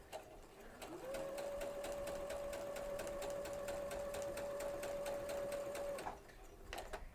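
Sewing machine stitching a quilting seam with a quarter inch presser foot, a steady rapid mechanical whir and tapping running for about five seconds before stopping, close and alone.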